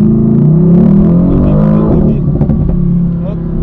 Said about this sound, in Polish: na drugim biegu gubi cały czas trakcję.